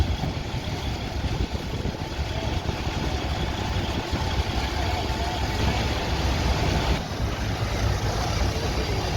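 An International 1466 tractor engine runs steadily at a vintage farm show, a continuous loud diesel rumble with no talk over it.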